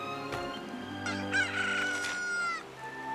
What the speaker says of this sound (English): the chickens are coming! The chickens are coming!